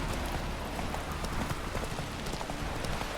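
Horse hooves clip-clopping in the video game The Witcher 3, a steady, busy trot of hoof clops over a dense, loud background.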